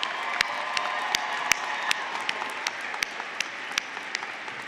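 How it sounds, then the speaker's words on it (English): A graduation ceremony crowd applauds the graduating seniors of Shadle Park High School's Class of 2017, with steady hall-wide clapping marked by sharper individual claps, without any voices. "Please give them all a solid round of applause."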